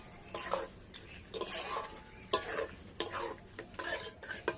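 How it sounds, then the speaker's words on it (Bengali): Carrot, milk and sugar mixture with crushed cardamom being stirred in a pan for carrot sandesh, with a series of short scraping strokes and light clinks of the spoon against the pan, close and fairly quiet. "এবার আমি নাড়াচাড়া করব"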